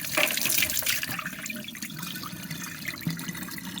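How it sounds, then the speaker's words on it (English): Water gushes out through the drain plug underneath a Freezimer DreamiceX1 bullet ice maker, a loud close splashing pour that eases into a steadier trickle. "Let's go ahead and drain the water."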